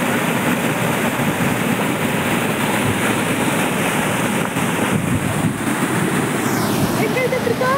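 Water rushes at KRS dam in a dense, constant roar close to the listener, with a faint whistle-like tone rising near the end.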